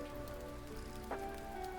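Rain pattering steadily in the video game Stardew Valley, a soft, even drizzle heard faintly under a quiet tonal game background with no talk.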